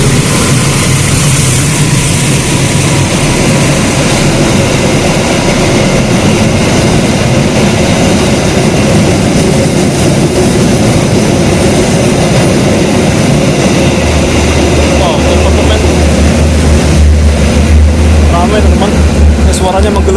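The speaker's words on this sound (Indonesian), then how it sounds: "Oh, ini ada kereta melintas langsung." A loud, continuous rumble and roar of a train rushing past close by, sustained for the whole stretch, with a deep low drone building toward the end.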